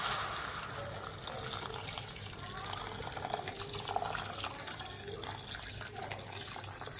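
Hot water is poured into roasted rice in a cooking pot while prawn rice is being made, giving a steady, close splashing and filling rush that continues at an even level throughout.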